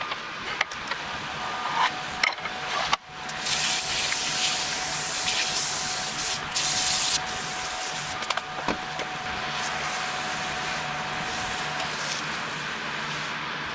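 Abrasive rubbing on the nub at the end of a pizza cutter, a continuous close hissing rasp that carries on steadily, broken by a brief thump near the start.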